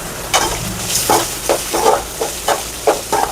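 Curry leaves, onion and green chillies sizzle and crackle in oil in a pan, with repeated bursts of frying hiss from stirring at a steady rhythm, close and fairly loud.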